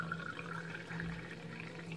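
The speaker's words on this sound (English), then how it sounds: "we will pour the mineral water with 20 degrees to the other cup now" Mineral water at 20 degrees poured into a cup, a steady close trickle and splash of liquid lasting the whole two seconds, quiet and without speech.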